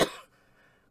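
One sharp, loud cough bursts out at the start, then quickly fades into quiet room tone.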